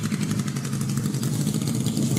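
A small postal scooter engine runs at a steady, buzzing idle with a faint rattling clatter, close and continuous, with no talk.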